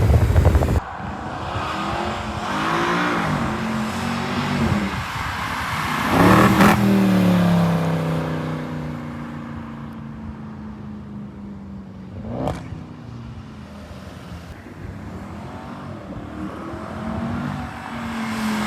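A Mercedes C63 AMG with a Eurocharged tune revs hard and downshifts with sharp blips, loud and close, its engine note rising and falling through several gear changes, without talk.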